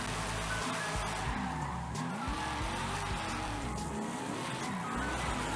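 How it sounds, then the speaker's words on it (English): A car in a video game skids and spins out, with a continuous engine drone and wavering tire squeal running steadily throughout. "all I saw was you spinning out"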